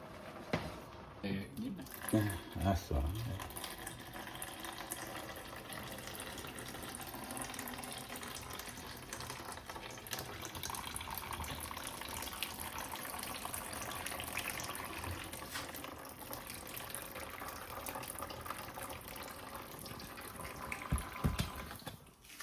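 Pasta water pours from a pot through a removable strainer set on the pot, a steady gushing stream running throughout, with a voice talking over it and a few clanks near the start.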